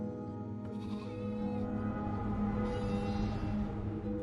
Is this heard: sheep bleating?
yes